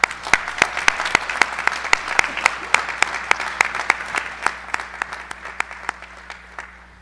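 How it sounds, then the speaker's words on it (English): A crowd applauds graduates at an indoor college commencement ceremony, steady dense clapping with a few sharper individual claps standing out, continuing evenly throughout. "give a round of applause to all the graduates we have here tonight"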